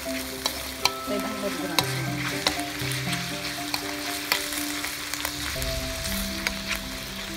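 A 500-gram pack of bacon frying and being stirred in a pan for a creamy macaroni dish, a continuous close crackling sizzle with scraping strokes, light music underneath and no talk.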